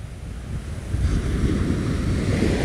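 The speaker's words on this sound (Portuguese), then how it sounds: "essa parte aqui, as ondas elas são um pouco mais fortes" Strong ocean waves roll onto Mamucabinhas beach in Barreiros, Pernambuco, a continuous loud roar of surf mixed with heavy wind buffeting the microphone.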